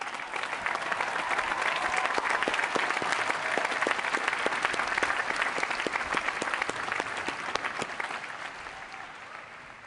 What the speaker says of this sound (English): Students, join me in a round of applause for the faculty and staff members.